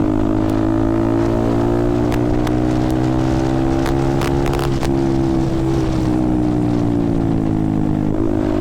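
A KTM Duke motorcycle with an aftermarket exhaust hums and revs with rising and falling tones, up close and loud, a steady throaty drone over road noise.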